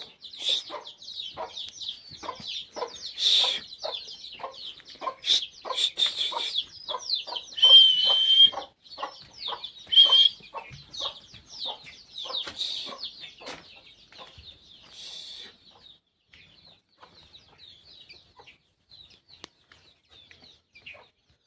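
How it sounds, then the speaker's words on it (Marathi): Free-range village hens cluck and cackle in short repeated bursts, fairly close, busiest in the first half and thinning out toward the end. "आपण कोंबड्या मोकळ्या सोडलेल्या आहे"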